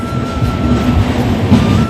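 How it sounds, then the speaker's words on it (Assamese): A train pulls into Kamakhya railway station, a steady loud rumble of rolling wagons with a faint high wheel squeal running through it, no voices. "ট্ৰেইন আহি গ'ল"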